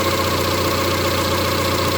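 A 1990 Honda Accord engine idles up close and loud on its own, a steady mid-pitched drone with uneven, knocking pulses from a misfire as the rpm surges.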